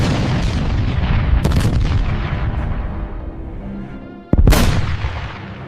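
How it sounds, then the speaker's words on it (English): Artillery bombardment of Finnish concrete bunkers by massed Soviet guns in the 1939 invasion: dense rumbling barrage with overlapping booms, then two sharp loud blasts close by standing out above the roar. "thousands of Soviet artillery pieces hammered the Finnish concrete bunkers"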